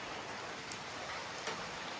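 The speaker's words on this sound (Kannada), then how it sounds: "ಮಳೆ ಬೀಳ್ತೈತೆ ನೋಡಿ." Rain falls on a parked car at night, a faint, steady patter and hiss heard from inside with no voices.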